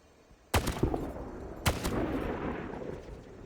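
Video game gunfire rings out as two sharp, loud shots about a second apart, each followed by a rumbling tail and lingering echo, with no voices.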